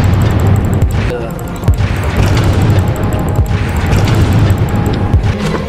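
In the Roblox horror game The Mimic, a cannon fires in loud booming thumps over a dense, noisy game soundtrack, with a couple of sharp blasts standing out against the constant din.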